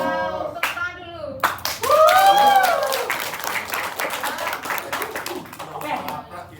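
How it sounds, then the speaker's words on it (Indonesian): Brief clapping from participants in a spine assessment class, scattered hand claps mixed with chatty voices and laughter rising over them, fairly close and lively. "Tepuk tangan dulu."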